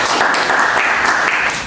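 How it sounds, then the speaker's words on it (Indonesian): An audience claps for their lecturer in a brief, close, dense round of applause that stays full and even for under two seconds before tapering off at the end. "Tepuk tangan pada dosen kita."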